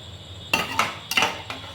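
A spatula clinks and scrapes against a pan while stirring vegetarian khichdi of daliya and mung dal with salt, turmeric and ginger paste, giving about four sharp metallic strikes in quick, uneven succession.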